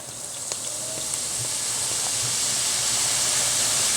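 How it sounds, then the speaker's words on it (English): Chicken noodle soup at a rolling boil in an Instant Pot on the saute setting, a continuous bubbling hiss that steadily grows louder, with occasional faint clinks and small pops. "you can see that I've got a good boil going on this"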